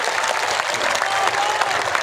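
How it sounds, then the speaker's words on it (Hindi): Dense, steady applause from a large crowd at a political rally after a nomination, continuous clapping close and loud for about two seconds with a faint murmur beneath. "जरा जोरदार ताली बजाओ मेरे भाई के लिए।"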